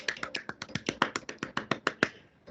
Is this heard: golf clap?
yes